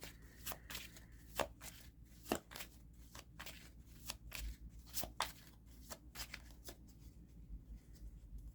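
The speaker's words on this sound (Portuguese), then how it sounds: "Deixa eu tirar mais umas cartas aqui desse oráculo" Oracle cards are shuffled and drawn by hand in a tarot reading: repeated soft riffling snaps and papery flicks come in an irregular rhythm, close and fairly quiet, with no one speaking.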